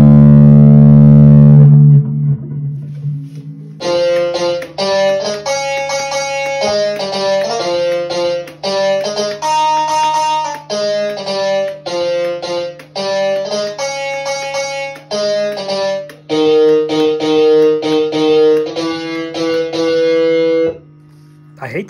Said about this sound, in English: I also added a little bit more distortion to the guitar to see if we could get more grindy sound.